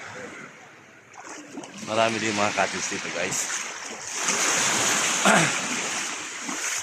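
Sea waves wash steadily onto a beach in a broad hiss of surf with wind, while someone talks over the water noise.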